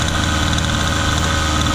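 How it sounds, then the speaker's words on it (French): A petrol engine of a 1/5 scale RC buggy idling while warming up, a steady, close buzzing putter with a fast even rhythm. "Donc maintenant que le moteur tourne. Donc, on laisse chauffer un peu."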